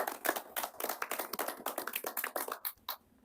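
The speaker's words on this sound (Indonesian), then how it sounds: "Mari kita beri tepuk tangan untuk kita semua." A small group claps briskly, individual hand claps audible as a quick uneven patter that thins out and stops near the end.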